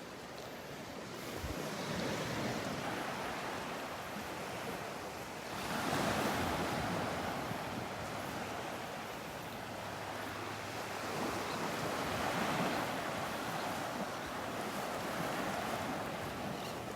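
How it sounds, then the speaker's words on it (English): Small ocean waves wash gently onto a beach in a continuous soft rush, with slight swells in loudness and some wind noise across the microphone, at Vanderbilt Beach. "Just some little tiny waves,"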